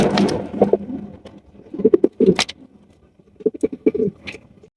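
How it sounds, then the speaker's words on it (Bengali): Danish pigeons coo close by at a pigeon market in low, throaty rolling bursts, several calls separated by short pauses, with a few sharp rustles between them. "আছে একজোড়া ডেনিশ কবুতর"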